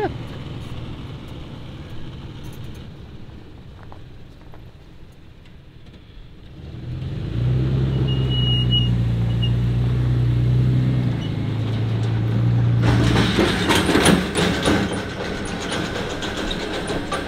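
A car engine rumbles low and steady, rising louder midway as the car drives and backs up, with a brighter hiss and clatter near the end.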